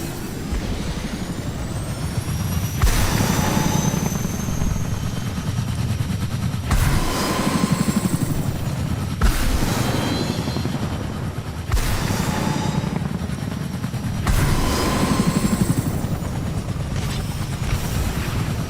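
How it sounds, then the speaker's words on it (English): Loud, continuous rotor thrum and engine whine of a helicopter flown in Fortnite, with a pulsing low chop and repeated sharp bursts cutting in every few seconds, no talk over it. "Hopping into this chopper."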